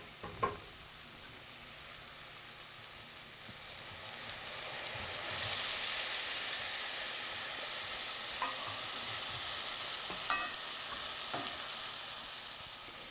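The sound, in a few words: leeks braising in a little chicken stock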